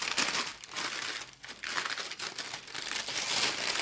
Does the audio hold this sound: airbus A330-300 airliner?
no